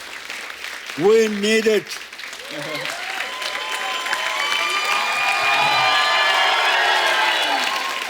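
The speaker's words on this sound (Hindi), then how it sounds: "जोरदार तालियां हो जाएं" A television comedy show studio audience bursts into sustained applause and cheering, with a brief loud shout near the start and someone speaking over it, then a broad, steady roar of clapping building toward the end.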